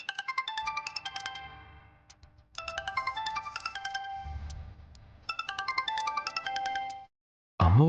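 A phone ringtone plays in three repeated melodic bursts of bright electronic tones, separated by short pauses, before it cuts off and a brief low sound follows at the end.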